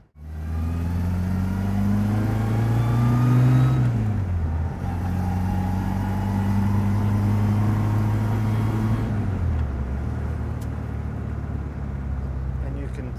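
A 1960 Austin-Healey Bugeye Sprite drives around town through corners, its small engine droning steadily close by, with pitch rising and falling as it revs up, eases off for turns, then pulls away again.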